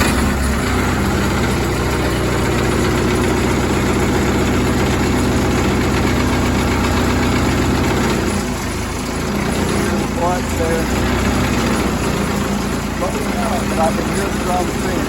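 A brush chipper's engine runs at a steady, loud idle with heavy low vibration throughout, and someone talks intermittently over the rumble.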